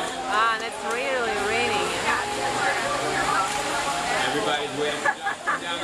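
Heavy rain pours down broadband and steady at an outdoor Circuit-Fit Battle fitness competition, with shouted voices and cheering over the downpour.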